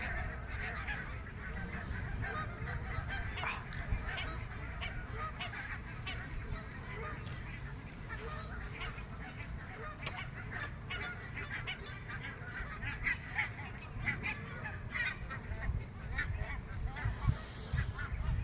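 Geese honking near a fishing spot outdoors, repeated overlapping honks from a flock at moderate distance, continuous over a steady outdoor background with occasional speech.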